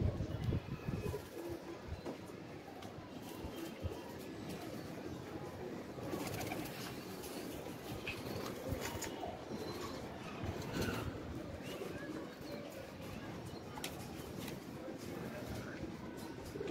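Racing pigeons coo steadily amid dense outdoor noise, with someone talking over them throughout and a faint rumble in the background.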